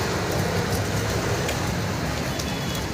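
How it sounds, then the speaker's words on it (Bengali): Heavy rain pouring down, a close, dense and unbroken hiss of drops striking surfaces, steady and loud from start to finish. "বৃষ্টি, অনেক বৃষ্টি না বাবা?"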